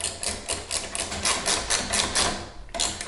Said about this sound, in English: And then from there, we'll just tighten it up again with our wrench.